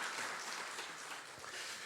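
A church congregation at a New Year's Eve service claps in welcome, a faint, distant wash of applause lasting under two seconds.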